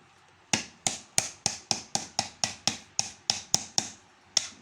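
A pipe hammered into a car drive boot bushing on a Mitsubishi, about a dozen sharp metallic strikes in a steady rhythm, close and loud, with no talking.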